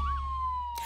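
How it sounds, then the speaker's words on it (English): A loud fire truck siren holds one steady wailing tone close by, with a brief burst of broadband noise near the end and no talking. "The siren is so loud"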